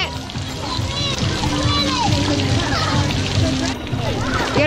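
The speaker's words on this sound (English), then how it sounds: "Wow, you splashed at me." Children splash and slosh water in a resort pool, with bursts of splashing under steady excited kids' chatter and adult voices close by.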